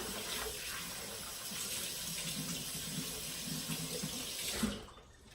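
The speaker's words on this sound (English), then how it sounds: "Let me wash my hands real quick." A kitchen sink tap runs steadily while hands are washed under the stream, a close, continuous splashing that cuts off near the end.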